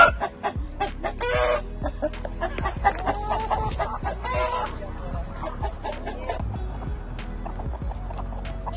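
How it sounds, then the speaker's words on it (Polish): A young rooster and hens on a farm, with repeated close clucks and sharp squawks in quick bursts, a crowing-like call near the start, and a voice talking softly in the background. "jest z nami tutaj u nas na farmie nowy kogucik, przez co Dziubdziuś musiał wyjść na chwilę,"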